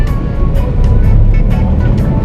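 Manual car engine revving and droning loud and close while the driver shifts into second gear as the car pulls away, steady roar with slight pitch changes through the shift.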